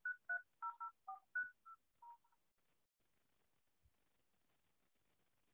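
Telephone keypad DTMF tones beep in a quick series of about seven clear dialing presses while placing an outgoing call, followed by near silence.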